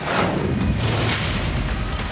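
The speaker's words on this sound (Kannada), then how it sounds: "Petrol bomb." A loud, sustained roaring blast with crackling rumble, like a fiery explosion bursting nearby, from a petrol bomb during an attack on shops in Nagamangala.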